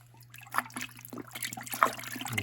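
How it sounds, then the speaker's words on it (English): An old sock packed with worm castings is tossed into water for worm tea, giving a brief close splash followed by soft trickling and sloshing over a steady low hum. "you take your water and you throw your sock in there"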